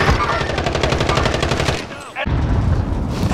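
Rapid automatic gunfire in Warzone, a dense fast stream of close shots that briefly stops, then another burst resumes.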